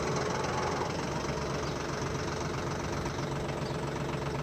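A tractor engine idles steadily, rumbling continuously at a fairly constant level, with a low mechanical throb and no voices.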